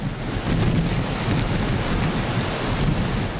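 Typhoon Mangkhut's gale and driving rain sweep the Heng Fa Chuen seafront in Hong Kong, a steady, loud hiss and rumble of wind and downpour throughout.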